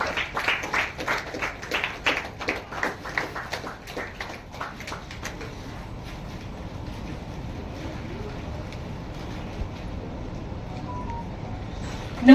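Crowd applause for a magazine cover page launch at the Chitrasante awards, a burst of clapping for about five seconds that fades into a low murmur of room noise.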